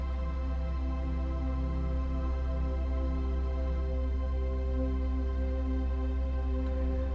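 Sustained synth worship pad from Prime with the third removed, a smooth, steady open drone with a deep low end, holding evenly throughout with no talk.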